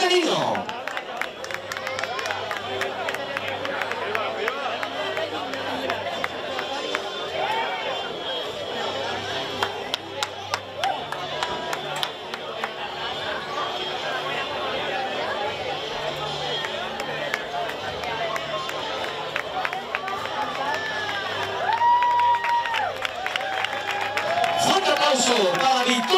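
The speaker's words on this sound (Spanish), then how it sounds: "Fuerte aplauso para estas campeonas" A crowd at a triathlon awards ceremony in San Roque applauds the senior women's champions: a steady, dense wash of clapping and cheering mixed with crowd babble, lasting throughout and swelling slightly at the end.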